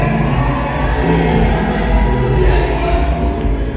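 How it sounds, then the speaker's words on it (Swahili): A church congregation applauding and ululating together, a loud dense wash of clapping, cheering and high trilling voices that carries on without a break. "Ongeza makofi na vigelegele."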